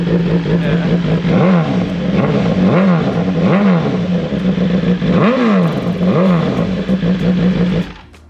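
A 2023 MV Agusta Brutale motorcycle with stock exhaust revs loudly and repeatedly, rising and falling in pitch in rhythmic bursts, close and continuous before cutting off at the end.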